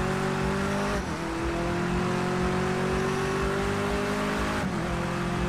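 A touring car engine roars steadily on a wet Bull Ring track in the racing game Project Cars 2, a loud continuous drone broken by two quick upshifts, with no talk.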